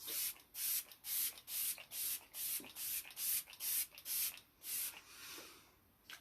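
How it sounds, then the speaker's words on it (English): L'Oreal setting spray misted onto a face, a run of about a dozen quick, close, breathy pump sprays in a steady rhythm, each a short airy hiss with brief gaps between. "I'm just going to set my face a bit with this L'Oreal setting spray."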